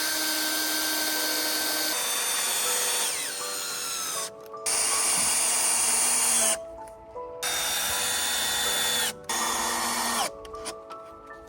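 A power drill bores a pilot hole into wood for a DIY compost bin, its motor whining steadily in several long bursts separated by brief pauses, close and loud with no talk over it.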